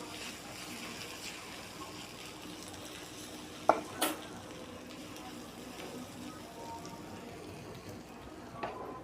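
Rice is stir-fried in a hot pot with salt, a continuous soft sizzle with occasional scraping knocks of the spoon, fairly close.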